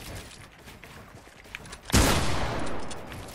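Gunfire in a Fortnite match bursts in suddenly after a quieter stretch of game noise, a loud, close flurry of rapid shots that carries on to the end.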